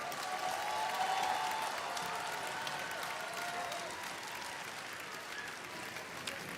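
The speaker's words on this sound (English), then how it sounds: "let's give the judges a huge round of applause for all their hard work" Large indoor crowd at a FIRST robotics state championship applauds the judges, a steady, dense wash of clapping that holds throughout at a moderate distance, with some faint cheering mixed in.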